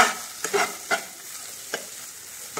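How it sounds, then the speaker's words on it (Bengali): A spoon stirs cumin powder and salt frying in a pan for a dhaba-style tadka dal, giving a few distinct scraping strokes over a soft sizzle, with no voices. "1/2 চামচ জিরে গুঁড়ো, একটু নুন দিয়ে আমি আবার এরকম নাড়তে থাকবো"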